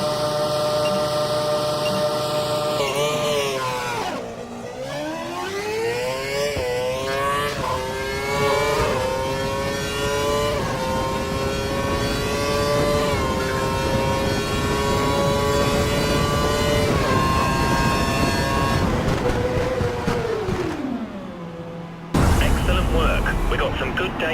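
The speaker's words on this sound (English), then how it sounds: "Head down the track accelerating past 160 miles per hour, then brake so that you come to a complete stop in the designated area." An F1 car in the video game F1 2012 accelerates hard down the track, its high engine whine climbing through several gear shifts before dropping sharply under braking, loud and alone.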